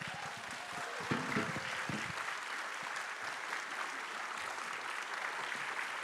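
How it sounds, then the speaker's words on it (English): Soft, distant applause from a church congregation, steady throughout, with a voice speaking over the clapping during the opening couple of seconds. "How about a little applause and a little gratitude?"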